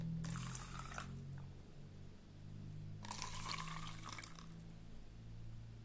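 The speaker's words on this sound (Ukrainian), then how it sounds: "Використовуємо відстояну воду і заливаємо ним наше насіння моркви." Settled water solution poured over carrot seeds in a jar, heard in two short bursts of splashing liquid separated by a quiet pause, close and fairly clear over a low background hum.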